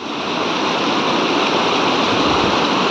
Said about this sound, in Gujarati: જો આ ઝરણા મસ્તીના વહે છે